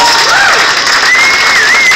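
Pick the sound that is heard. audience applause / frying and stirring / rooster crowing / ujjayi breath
audience applause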